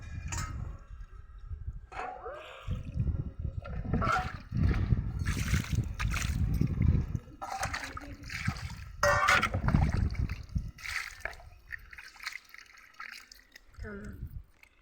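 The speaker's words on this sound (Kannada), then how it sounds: "ಅದಕ್ಕೆ ಎರಡು ಮೂರು ಸಾರಿ ನೀರು ಹಾಕಿ ತೊಳ್ಕೊಬೇಕು" Water splashing and trickling in bursts as fish are rinsed by hand, with dripping and sloshing, and people talking at times over it.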